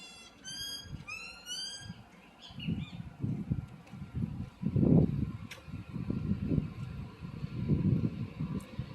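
Birds at a beach resort give a quick burst of whistled, chirping calls close by at the start, then the song fades under gusty wind rumble and outdoor noise.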